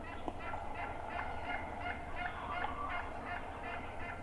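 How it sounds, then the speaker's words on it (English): A steady series of short, evenly spaced calls from a wild turkey hen yelping repeats from a moderate distance over a constant outdoor background hum. "other than that hen yelping"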